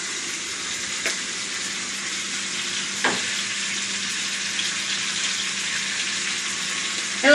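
Chicken sizzling and frying steadily in a pan, a constant close crackle with a couple of soft knocks from the pan or utensil.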